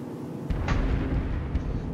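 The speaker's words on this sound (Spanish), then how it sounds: "Que llega hasta ahí la explosión, joder." A deep, rumbling explosion in the video game Enemy Front bursts in after half a second and keeps roaring with sustained low crackling noise, loud and close, with a sharp pop near the end.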